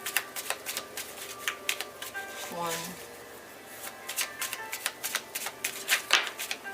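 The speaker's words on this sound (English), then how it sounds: "We're going to do 3 shuffles" A deck of tarot cards being shuffled during a love reading: a run of crisp, papery riffling clicks and soft slaps in uneven bursts, close by, with a person talking over them.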